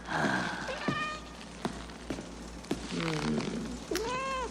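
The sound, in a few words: cat meowing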